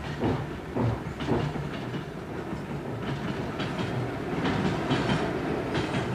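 A freight train rolls slowly at about 10 km/h over newly laid track on the Tianshan railway, with rhythmic clickety-clack of wheels over rail joints and a steady low rumble at moderate distance.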